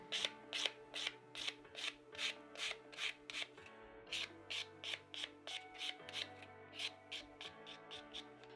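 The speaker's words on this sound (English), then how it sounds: "Remove the shine on the nail." A file is rubbed across a nail tip extension to remove its shine, giving a rhythmic series of quick, close scratchy strokes, roughly two per second, with no talking.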